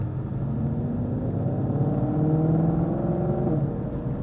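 Ford Mustang Shelby GT500 with a 760 hp engine accelerating, giving a steady, moderately loud droning rumble that rises gently in pitch throughout.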